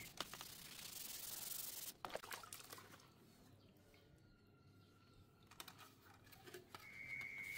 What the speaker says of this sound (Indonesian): Jadi ini kita amplas grit 400 menyeluruh karena bodinya ada bekas baret-baret yang dalam.